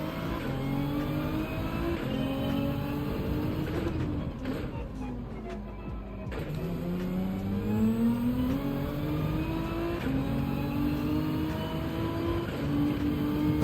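Racing car engine in Gran Turismo 7 on the Deep Forest circuit, a loud continuous drone that rises and falls through gear shifts, with a dip mid-clip before revving back up, sustained throughout.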